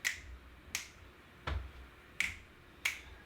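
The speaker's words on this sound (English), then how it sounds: "step forward, clap, step forward, clap, and snaps" Five crisp finger snaps during a Parkinson's balance exercise class, spaced at an uneven, roughly steady pace, close and clear against a quiet room.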